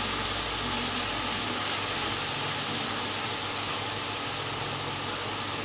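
Potatoes frying in hot oil for crispy shredded fried potatoes, a dense steady sizzling hiss that fills the clip evenly and close, with no talking.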